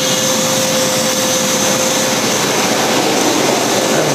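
Automatic car wash machine in Moranhat, Assam, a loud steady roar of blowers and spraying, constant and close with no pauses and no voices.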